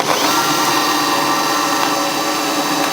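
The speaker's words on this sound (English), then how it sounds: "I'm drilling pilot holes into the frame of the MITS tray" A power drill whines steadily and loudly up close, grinding continuously through metal without pause, drilling pilot holes into the frame of a flatbed tray on a Toyota Tacoma.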